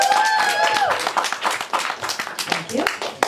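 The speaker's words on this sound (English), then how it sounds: "Applause, please, for that." An audience applauds at a literary reading, a continuous wash of clapping heard throughout with a voice speaking over the start.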